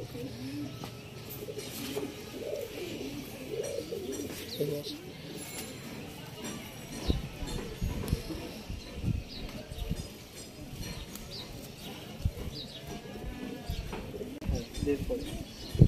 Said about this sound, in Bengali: নর পায়রাগুলো এবার দেখাচ্ছি